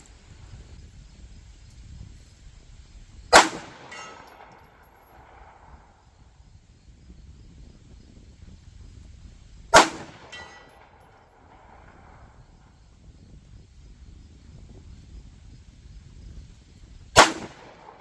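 Three sharp Staccato pistol shots several seconds apart, each a crisp crack with a short ringing tail, fired at a steel plate 100 yards off over quiet outdoor background noise.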